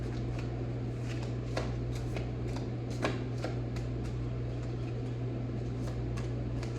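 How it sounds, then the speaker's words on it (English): A large deck of cards is shuffled repeatedly, with quick riffling clicks and snaps over a steady low hum. "now we're gonna go ahead and start shuffling again"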